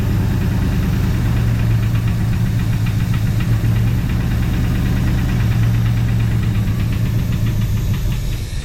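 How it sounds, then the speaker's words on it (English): A 1966 Ford Fairlane's 390 FE V8 runs on its own after being cranked, a loud, steady, rough idle with a heavy low throb and a knocking, slightly uneven rhythm throughout. "Crank her up and see if she'll run for a minute."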